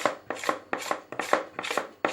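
Brownie batter whisked hand by hand in a bowl without a blender, a fast regular series of close, sharp scraping strokes, about three per second, with no talking.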